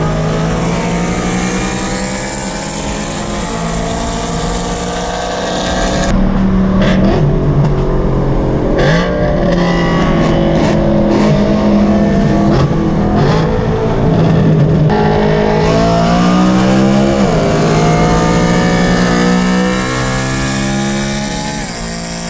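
A purple BMW E92 M3 running on E85 fuel races with a loud exhaust, its engine revving hard and roaring continuously up close, rising and falling through the gears.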